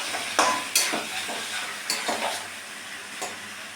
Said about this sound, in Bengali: এবার দিয়ে দিয়েছি আদা বাটা আর টমেটো কুচি। এবার নাড়াতে থাকবো।